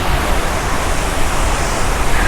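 Athirappilly waterfall pouring down in steady, dense roaring rush of water, loud and continuous throughout with no voices.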